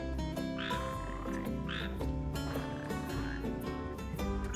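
Red frogs croak repeatedly in a Final Fantasy XV video game scene, steady and fairly loud against a dense musical game soundtrack.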